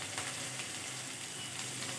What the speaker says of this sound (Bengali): কড়াইতে যে তেলটা ছিল তার মধ্যে দিয়ে দিয়েছি গোটা জিরে পেঁয়াজ কুচি